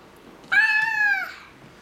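A child imitates a cat with a single clear, drawn-out meow lasting under a second, close and fairly loud against a quiet background.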